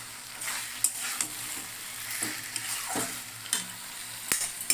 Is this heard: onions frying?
yes